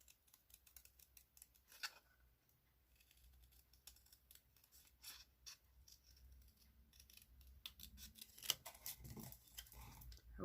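Scissors fussy cutting around a stamped image on a card, quiet close snips and crisp paper cuts coming in irregular bursts, with faint handling rustles between.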